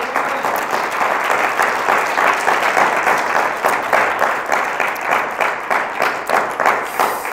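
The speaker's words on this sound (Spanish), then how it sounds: "fuerte el aplauso al Señor" A church congregation gives a loud, sustained round of applause, dense close clapping from many hands with a rhythmic pulsing edge, steady throughout with little talk.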